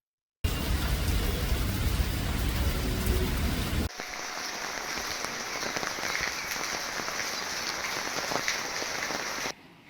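Heavy rain pours steadily over Bharuch, Gujarat with a dense, broadband roar, loud and close at first, then continuing slightly softer and more distant until it cuts off.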